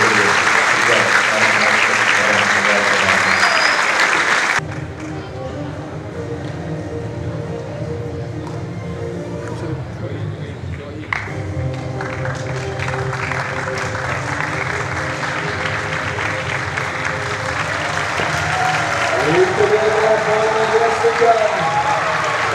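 An audience applauds at the launch of a community outreach program in Jasin, Melaka, a loud sustained clatter of many hands that dips, swells again and continues steadily.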